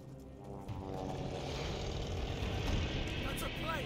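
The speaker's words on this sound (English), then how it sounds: "That's a plane!" A propeller airplane approaching in the World War II shooter Call of Duty Vanguard, set in Libya in 1941: a rising engine drone that grows louder over a few seconds, with background rumble.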